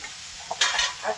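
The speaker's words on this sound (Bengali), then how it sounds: "লবণ হলুদ দিয়ে একটু হালকা করে ভেজে নেব।" Taro flowers frying in oil with salt and turmeric, a short sizzle under stirring with a spatula scraping the pan, rising loudly near the middle and again at the end; no talking.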